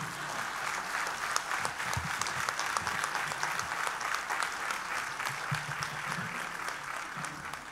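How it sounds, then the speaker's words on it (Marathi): Sustained, dense applause from a large audience at Asha Bhosle's book launch, steady clapping filling a hall at moderate distance with no pauses. "जोरदार टाळी पडते रे पार्लेकरांची."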